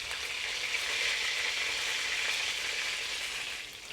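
A chicken chop sizzles skin side down in hot oil in a pan, a loud, steady, hissing fry that continues without a break.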